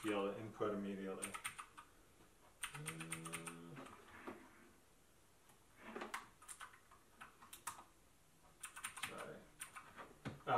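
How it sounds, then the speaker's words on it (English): Keystrokes on a Keychron K4 mechanical keyboard come in quick clustered bursts separated by pauses, fairly close and clear, with some speech between the bursts. "So now it's typing immediately."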